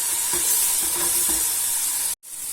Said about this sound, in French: je vais laisser mijoter un petit peu